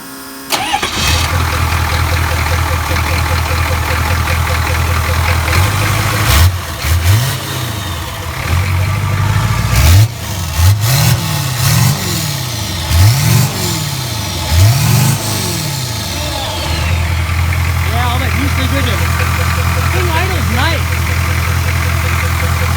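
A 1972 Chevrolet Nova with a 6.2 liter turbo diesel cranks, fires and settles into a loud, rough idle, then revs hard several times in a row, each rev swelling and falling before it returns to idle.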